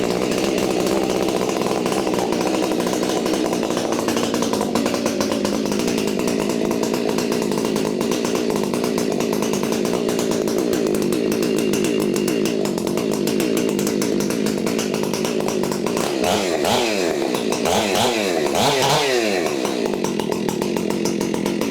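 A Husqvarna 592XP chainsaw with a modified muffler runs loud and close, a steady, raspy roar held without pause, with a few revving swells near the end as the engine relearns its tuning.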